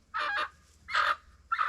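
Seven-week-old meat chickens call out in three loud, close squawking bursts spaced a moment apart, with no talking.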